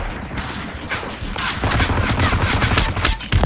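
Gunfire from a sniper rifle in the VR battle game Population: One, loud cracks and booms over a busy fight with other weapons firing nearby, several shots spread through the clip.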